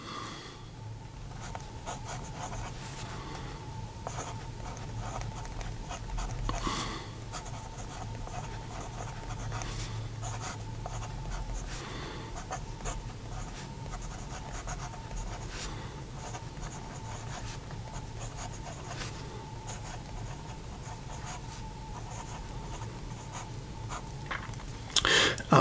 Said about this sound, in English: let's try a writing sample.